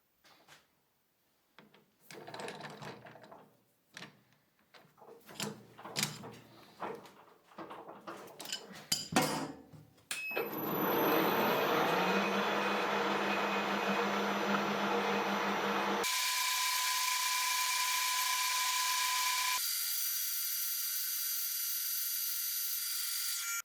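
A homemade socket head for stripped bolt heads has a square ratchet drive hole cut into it on a lathe. Scattered metallic clinks of handling come first, then a loud, steady machining whine that holds and shifts in tone toward the end.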